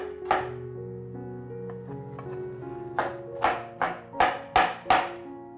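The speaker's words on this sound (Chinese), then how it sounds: "所以先切成细条状" A knife chops food into thin strips on a cutting board while making a vegan home-style dish, with sparse taps at first and then a quick run of sharp, close, evenly spaced chops, alone over a faint steady hum.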